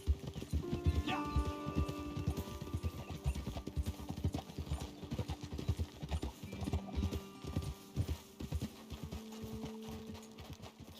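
Horses' hooves clip-clop steadily in Red Dead Redemption 2 as riders climb toward a lookout, a continuous rhythmic trot of several animals close by, with a faint neigh and scattered low voices beneath.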